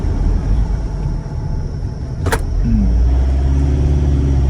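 A car climbs a rocky road in low gear, its engine droning loud and close with a constant rumble, a brief sharp knock partway through, then a slight rise in pitch.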